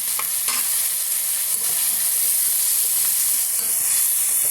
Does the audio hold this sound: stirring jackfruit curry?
yes